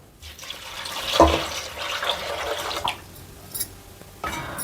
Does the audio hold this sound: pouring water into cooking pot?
yes